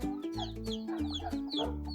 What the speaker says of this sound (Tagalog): Tuwang-tuwa na ngayon ito ating mga manok.